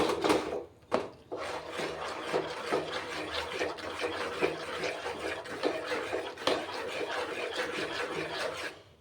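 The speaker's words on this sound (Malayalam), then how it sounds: "ഇതിന് നന്നായിട്ട് ഇളക്കി ചേർത്ത് പിടിപ്പിച്ചു" A spoon scrapes and rubs steadily around a pan of date payasam in a kitchen, a close, continuous grating stir with a couple of sharper knocks near the start.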